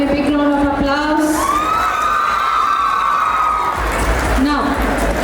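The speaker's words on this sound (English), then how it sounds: "give them a big round of applause" An audience at a school farewell celebration cheers and whoops loudly, with shrill shouts and children's yells rising over a continuous crowd roar that stays strong throughout.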